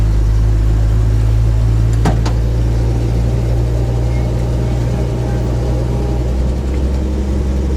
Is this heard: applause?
no